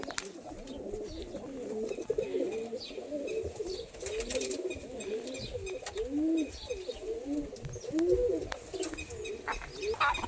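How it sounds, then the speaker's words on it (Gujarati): Pigeons coo in a steady, overlapping chorus, soft throaty warbles repeating close by, with occasional brief chirps and rustles in the background. "આ બધા કબૂતર છે આપણા"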